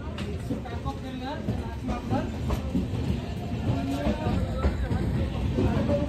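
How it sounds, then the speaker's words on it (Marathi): Konkan Kanya passenger train rolling along the rails with a steady, loud rumble and faint clatter, heard from on board under a low background of voices. "या ट्रेनने आलो कोकण कन्याने"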